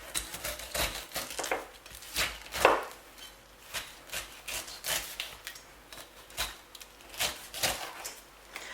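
A whole pineapple is peeled with a knife on a chopping board, giving repeated crisp slicing and scraping strokes in an irregular rhythm, close and moderately loud, with no talking.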